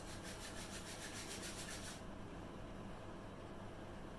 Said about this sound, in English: rubbing both hands and over your face